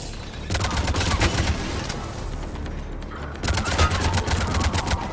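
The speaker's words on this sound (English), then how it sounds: "Sent my turret in there." A turret in Mass Effect 3 fires rapid bursts of gunfire, two loud clusters of sharp shots separated by a brief lull, close and dominant.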